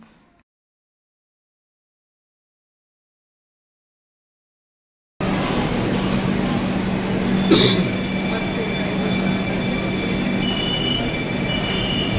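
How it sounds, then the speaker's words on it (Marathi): After several seconds of silence, a metro train rumbles steadily along the rails, with one brief high-pitched wheel squeal partway through. "मेट्रो ट्रेनचा प्रवास करूया"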